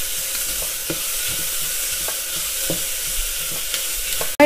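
Sliced large onion sautéing in oil with cinnamon and cloves, a continuous hiss with regular spatula stirring taps against the pan, close and unaccompanied by voices, ending in a brief clatter.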